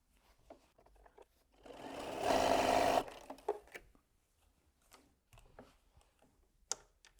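A sewing machine stitches quilt fabric for a log cabin quilt block in one steady whirring burst of about a second. Quiet clicks and handling noises come before and after it, close up and without speech.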